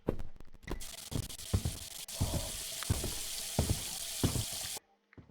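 Running water in the Roblox game Specter, a steady rushing splash with intermittent clunks and knocks, cutting off abruptly near the end.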